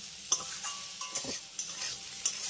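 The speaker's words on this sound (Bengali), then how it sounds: "সয়াবিনটাকে আমি হালকা লাল করে ভেজে নিয়েছি।" Soybean chunks fry in oil seasoned with turmeric and salt, giving a quiet, bright sizzle broken by several soft scrapes and clicks of a spatula stirring in the pan.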